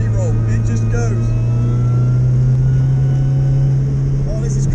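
A supercharged Vauxhall VX220 engine droning loud and close from inside the car on the Nürburgring, holding a strong steady note as it pulls after a downshift, with faint speech over it.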